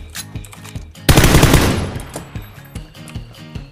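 Gunfire in PUBG: a loud burst of rapid automatic shots rings out close by over a busy backdrop of quieter scattered shots, with the reports tailing off into echo.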